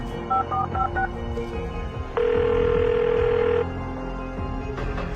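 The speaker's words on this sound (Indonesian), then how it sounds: "sekarang aku akan telepon ya manajer Cici." A telephone keypad sounds a quick run of dialing beeps, followed by one long, steady tone of the line while a call is placed, with no talking.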